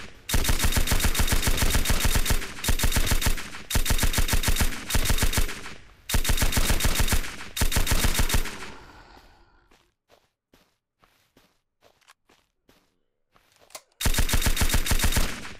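Rapid automatic gunfire in the Surroundead game, with loud bursts of fast shots lasting one to two seconds each, repeated five times, then a stretch of faint scattered clicks and near silence before a final burst.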